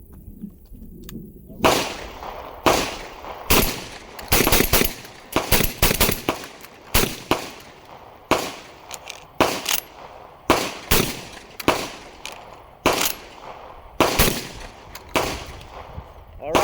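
A Mac 1014 Benelli M4 clone semi-automatic shotgun fires a long run of loud, sharp blasts, about a dozen and a half spaced roughly a second apart, each with a short echoing tail, outdoors.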